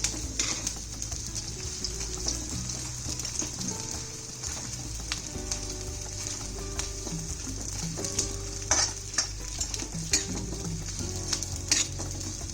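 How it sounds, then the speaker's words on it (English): Edible gum frying in hot ghee for panjiri, a steady close crackling sizzle with bubbling pops and occasional stirring, continuous and loud without any voices. "in the remaining ghee, we'll fry the rest of the gum"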